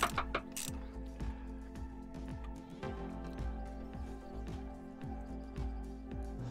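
Ratchet with a 12 mm socket on a long extension turning a bolt while replacing the starter motor on a Toyota 2.0L D4D diesel, a steady series of close, evenly spaced clicking ratchet strokes throughout.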